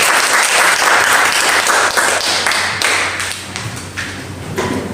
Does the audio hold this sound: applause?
yes